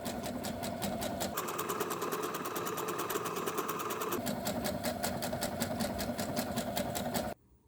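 A sewing machine runs a decorative stitch along the first line of a vintage-style bib, a fast steady mechanical chatter with a brief change in pitch midway, close and continuous before stopping abruptly at the end.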